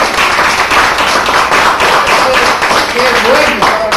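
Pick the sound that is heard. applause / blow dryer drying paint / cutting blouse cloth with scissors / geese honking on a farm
applause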